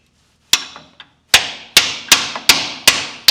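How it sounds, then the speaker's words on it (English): A hammer strikes a driver on a freeze expansion plug in a 1960 Pontiac 389 engine block, sharp metallic blows, close and loud, in an irregular series of about eight hits with ringing decay and no talk. "I'm trying not to hit it too crazily."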